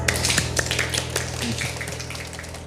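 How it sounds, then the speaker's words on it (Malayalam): Group balloon clap for welcoming a guest at a children's action-song programme: a brisk run of sharp claps and taps with no talk, moderately loud and close. "Balloon clap."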